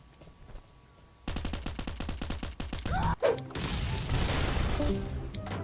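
Gunfire in the survival game Last Island of Survival: a fast, loud automatic burst of evenly spaced shots, then a heavy impact and a rougher, sustained crackle of continued fire.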